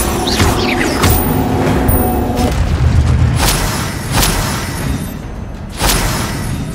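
A booming fire spell blast erupts amid a loud Hogwarts Legacy battle, with several heavy thuds and crashes layered over dense combat noise.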